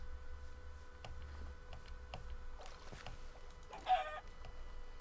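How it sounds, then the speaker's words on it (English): Chickens in the Minecraft video game give faint, scattered clucks over a low steady hum, with one slightly louder call near the end. "There's so many chickens."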